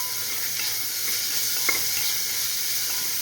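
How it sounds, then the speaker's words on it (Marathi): Ground coriander, green chillies, ginger and garlic sauté over medium flame in a pan, giving a soft, even sizzling hiss close by, with a single faint utensil scrape midway and no talk. "कोथंबीर आणि हिरवी मिरची ते यात टाकायचं ते पण परतून घ्यायचं"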